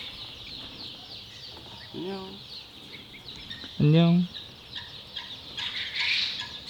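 Newly hatched baby chicks peep in a thin, steady high chorus throughout, while a person speaks briefly twice in between.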